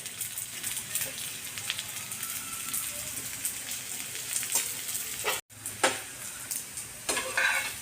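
Dough roasts on a hot pan, giving a steady close sizzle with scraping and stirring touches and one brief break in the sound.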